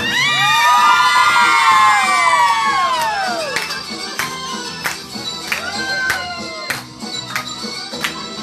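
A concert crowd of women screams and cheers loudly at a tribute show, with high piercing shrieks swelling at first, then sharp bangs and claps punctuating a continuing roar of cheering.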